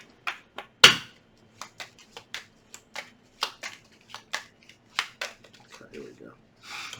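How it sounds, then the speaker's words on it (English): Tarot cards being shuffled by hand, a series of short crisp riffles and taps in an irregular rhythm, close and fairly quiet, with one sharper snap near the start and a soft murmur of voice in places. "One more shuffle."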